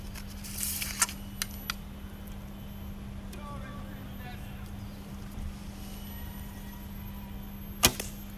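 Arrows from a bow strike a homemade expandable-foam 3D pigeon target with a few sharp thuds, the loudest near the end, against a quiet outdoor background with a steady low hum.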